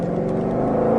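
Ford Mustang Shelby GT500 with a 760 hp engine pulling away, a brief steady engine drone that swells slightly as the revs build, heard close from inside the car.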